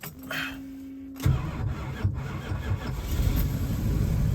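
A 1968 Dodge Charger with a 383 V8 cranks briefly, then catches and fires, settling into a loud, rumbling, slightly uneven idle close by.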